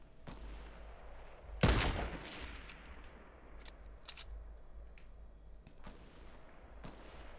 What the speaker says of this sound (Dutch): Ja, hij wordt goed onder schot genomen.